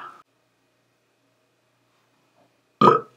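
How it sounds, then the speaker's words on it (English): A short faint vocal sound, then a pause of near silence, followed by one loud, abrupt, throaty burp close to the listener. "Burp."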